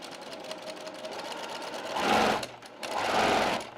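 A sewing machine stitches a quilt block in two bursts of steady, close whirring with a short pause between them, over a quiet room background.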